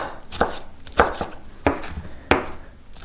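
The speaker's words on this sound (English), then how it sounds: "grab my knife, chop this up" A knife chops spinach in a bowl in four or five sharp, close strikes spaced roughly half a second apart, each a crisp thud, with no talking.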